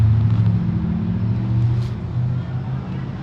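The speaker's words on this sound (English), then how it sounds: "That was a Jeep Trackhawk that just went by." Supercharged Jeep Grand Cherokee Trackhawk passing on a Miami street at night, its deep exhaust rumble rising and fading as it goes by, mixed with traffic noise.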